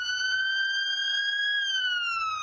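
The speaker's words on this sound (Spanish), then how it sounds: "Cuando una ambulancia se acerca a nosotros, la longitud de onda de la sirena se comprime." An ambulance siren holds a loud steady wailing tone with strong harmonics, then its pitch slides downward near the end as it passes by and moves away, with no voices over it.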